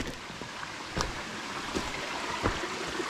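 Steady rushing water of Bellbird Creek at Binna Burra flows continuously nearby, a broad even wash with a few soft splashes and knocks mixed in.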